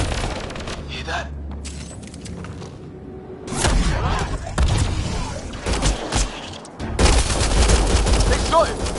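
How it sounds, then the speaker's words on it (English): Gunfire rings out in bursts of rapid, loud shots, with booming volleys and clattering automatic fire alternating with brief lulls. Voices talk over parts of the shooting. "They shot him!"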